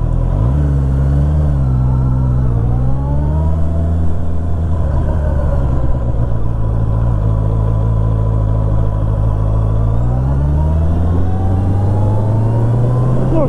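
A motorcycle riding through the streets of Berlin, its engine droning steadily up close with rising and falling pitch as it accelerates and slows, continuous and loud throughout.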